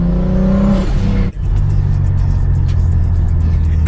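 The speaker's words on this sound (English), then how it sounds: "I heard a turbine." A BMW 335i engine hums with a rising turbo whine that cuts off abruptly, then the motor drones on steadily with a low, even rumble.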